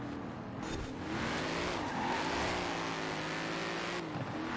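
Engine revving and tires skidding on a BMW in the Forza Horizon 4 racing game during a winter season race, a steady loud engine drone with squealing tires through a sharp turn, no talking.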